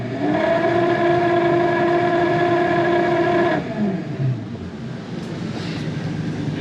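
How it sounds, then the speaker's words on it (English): A trailer refrigeration unit's fan motor with a bad bearing gives a loud, steady droning whine with strong harmonic tones, then winds down with a falling pitch and leaves a rougher broadband rumble. "We got a new fan motor ordered for this one because it's got a bad bearing out of it."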